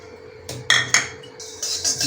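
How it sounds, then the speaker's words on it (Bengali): Coriander seeds dry-roasting in a pan, heard as a few sharp metallic scrapes and clinks of a utensil against the pan, irregular and close, with no talk. "এবার ভেজে নিচ্ছি ধনে"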